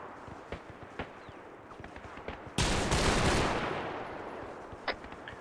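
Gunfire in a military video game: faint scattered shots, then a sudden loud sustained burst of rapid fire that slowly fades, followed by a single sharp crack near the end.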